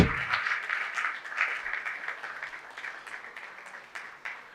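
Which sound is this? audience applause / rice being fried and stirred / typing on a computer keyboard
audience applause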